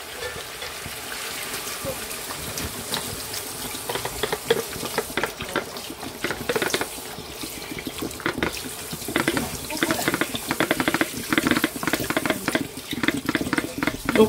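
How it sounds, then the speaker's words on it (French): Water from a 1.5 litre bottle poured into a cooking pot for Algerian couscous royal, a steady splashing and gurgling that grows louder and more turbulent over time, heard close up and without talk. "Vous mettez maintenant de l'eau."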